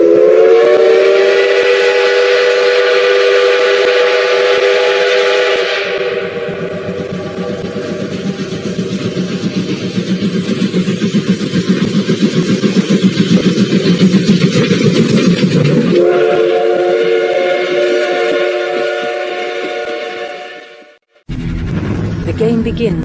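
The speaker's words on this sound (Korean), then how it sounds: "천국 복음 열차가 이 열차의 종착역인 천국을 향해서 힘차게 출발하겠습니다" A train whistle blows loud and sustained, gives way to the rolling rumble of a departing train, then sounds again before cutting off abruptly, with no speech.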